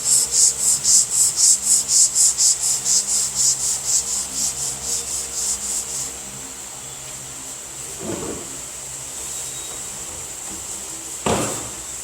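Block sanding a muscle car body panel during restoration, giving a steady rhythmic rubbing rasp of about a dozen strokes that fade away, followed by quieter gaps with two brief scuffs near the end.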